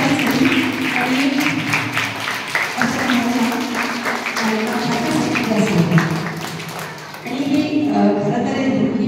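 Crowd applause for the students of Urgyen Sangharakshita International School at an Indian school event, a sustained dense clapping mixed with voices that fades briefly near the end, then swells again.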